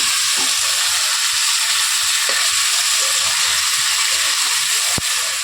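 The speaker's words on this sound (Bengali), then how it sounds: "5-7 মিনিট ধরে ভালোভাবে কষিয়ে নিয়েছি মশলাটাকে।" Spice paste for a rohu fish curry with ridge gourd and potato fries in a pan, a loud, continuous close sizzle with a few soft stirring knocks and no voices.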